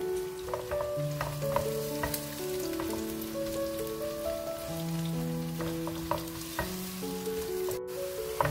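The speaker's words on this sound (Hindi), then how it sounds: "प्याज को अच्छा सा हम फ्राई करेंगे" Onions fry in a pan for a shahi chicken korma, giving a steady close sizzle with occasional stirring scrapes. Sustained melodic tones run underneath throughout.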